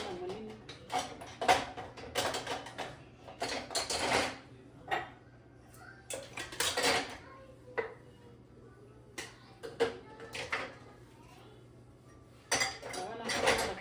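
Dishes and cutlery clatter and clink in repeated bursts as they are loaded into a dishwasher, with short loud clusters of rattling separated by quieter pauses.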